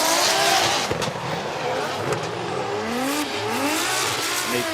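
Drift cars at Suzuka racing and spinning out during a Formula Drift Japan event, with loud revving engines, rising and falling pitch sweeps and tire squeal, while a commentator talks over the action.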